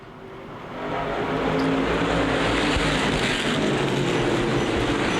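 Street stock race cars roar around Winchester Speedway, the engine noise swelling from a quieter start into a loud, sustained rumble as the pack passes close by.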